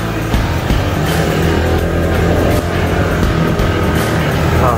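A Maxxie 160 motorcycle carrying about 123 kg climbs a rough, potholed uphill road, its engine droning loudly and steadily with a constant rumble and wind noise close to the rider throughout.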